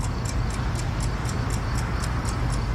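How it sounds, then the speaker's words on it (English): A clock ticking steadily, about three sharp ticks per second, close and clear over a constant low hum, with no voices. "It's a clock, Jimmy."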